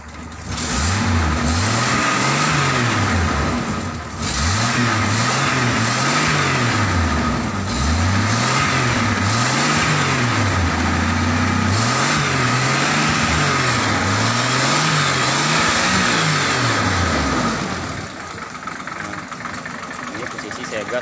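A modified FJ40 pickup engine revs up and down repeatedly in rhythmic swells, rough and loud close by, before dropping back to idle; a voice talks underneath.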